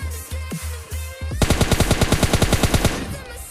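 Gunfire in the mobile game PUBG Mobile Lite: a few separate shots, then a fast, loud automatic burst of about twenty evenly spaced rounds that stops abruptly.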